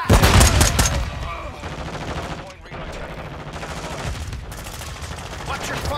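Gunfire in Warzone 2 as a video game: a dense, continuous crackle of shots and explosions throughout, loud at the start and then steady, with a brief lull midway.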